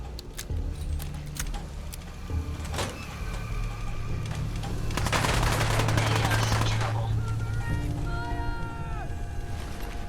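Gunfire in Fallout 4, rapid bursts and shots popping over a steady background hum, growing denser and louder in the middle, with a voice speaking briefly near the end.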